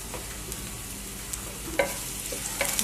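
Chopped garlic sizzles in hot ghee for an Indian potato bharta, a steady frying hiss with a few sharper crackles and stirring clinks, close and moderately loud with no talking.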